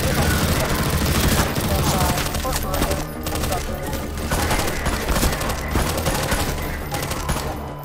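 Rapid, dense gunfire in the Half-Life 2 mod Swelter, a continuous loud barrage of overlapping shots with a brief dip near the three-second mark before resuming at full intensity.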